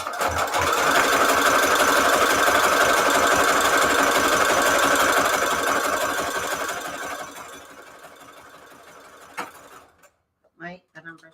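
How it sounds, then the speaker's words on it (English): Loud, steady whir of a sewing machine sewing a zigzag stitch around a junk journal signature, running for about eight seconds before slowing and stopping, followed by brief talk. "I'm going to do my little zigzag stitch all the way around before I start."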